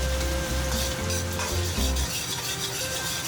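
Ginger and garlic hit hot oil in a wok with a few Sichuan peppercorns, the oil left over from frying fish. A loud, steady sizzle carries on throughout as the pieces are stirred, with no voices.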